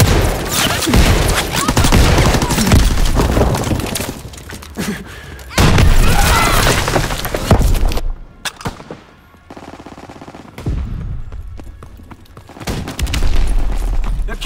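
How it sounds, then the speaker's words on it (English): Call of Duty WWII beta match with an enemy bombing run: dense machine-gun fire and booming explosions in loud, chaotic waves, briefly dropping to quieter moments before heavy blasts return. "Enemy bomb incoming!"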